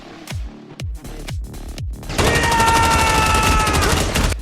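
Several separate gunshots ring out in an action film, then a dense rapid burst of automatic gunfire continues loudly to the end.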